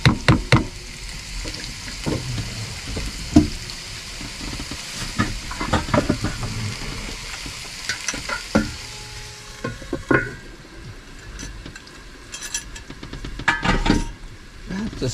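Food sizzles and fries in a pan inside a camper van, with stirring knocks, clatters and the hiss of steam under a lid, and brief voices talking nearby.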